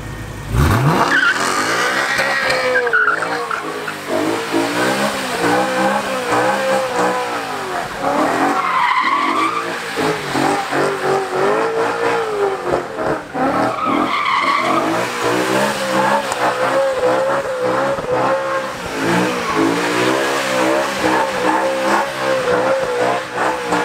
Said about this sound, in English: It does good donuts.